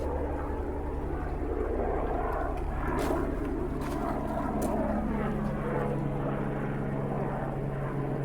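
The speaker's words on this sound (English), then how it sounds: "Oh no, here comes a helicopter." A continuous low droning engine roar with a steady rotor hum from a helicopter, loud and persistent overhead for the whole stretch.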